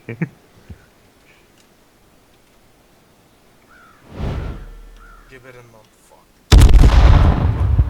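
A loud car explosion in the video game H1Z1 erupts late in the clip, preceded by a softer whooshing boom and scattered faint pops.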